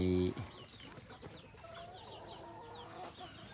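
Small young chickens that have left their coop cluck and chirp softly at close range on a farm, a scattered, busy chatter with a brief loud thump at the start.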